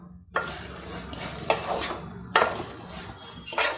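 Meal maker (soya chunk) pulao made with chittu mutyalu rice stirred in a cooking pot, several scraping sweeps of a spoon against the pot with a low simmering sizzle underneath, close and fairly loud, no talking.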